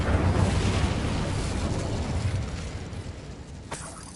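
The Incendio fire spell is cast in Hogwarts Legacy as a sustained roaring, crackling whoosh of flame that starts loud and slowly fades, with a small pop near the end.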